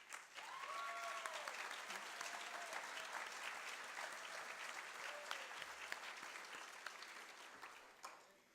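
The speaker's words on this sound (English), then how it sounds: "Would you guys give her a huge round of applause" Sustained applause from a room of real estate agents at a company meeting, a steady dense clatter of many hands filling the whole stretch, with a few faint voices mixed in.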